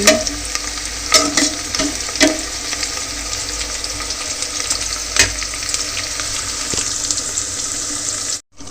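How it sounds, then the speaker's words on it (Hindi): Onions and whole spices fry in a pan, a steady loud hiss with periodic scraping knocks from stirring, close and continuous before cutting off abruptly at the end, with no talking. "खड़ा मसाला ला और प्याज में भी मैं डाल लिए हूँ, और प्याज में थोड़ा सा भून लूँ"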